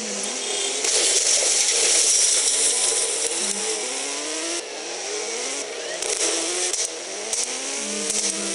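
Motorbike engine revving continuously in the Indian Bike Driving 3D mobile game, loud and sustained, with repeated rising and falling pitch sweeps as the throttle is worked; no talking.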